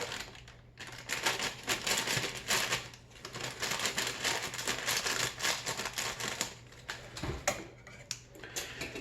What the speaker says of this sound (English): So I think I'm going to use my scissors to open that carefully.